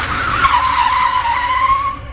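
A car skids out of control with a sustained, loud tire squeal lasting about two seconds, wavering slightly in pitch before fading at the end, with no voices.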